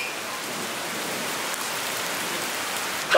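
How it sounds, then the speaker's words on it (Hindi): Steady, dense rainfall pouring down continuously, a loud broadband hiss of drops hitting surfaces with no voices. "और बारिश हो रही है एक नंबर की"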